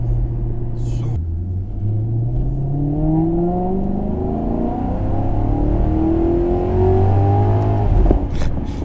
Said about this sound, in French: Il y a tellement de couples que ça patine au démarrage